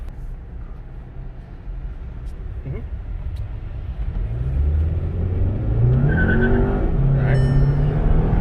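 A 2019 MK7 VW Jetta GLI, JB4 tuned, launching hard from a stoplight, tires briefly spinning and chirping as the engine revs climb loudly; a voice speaks once near the start.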